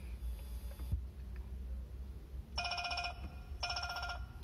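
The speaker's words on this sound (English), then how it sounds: "El Cal Denero, phone call for you." A telephone rings for an incoming call, two short bursts of a trilling electronic bell separated by a pause, faint against a low background hum.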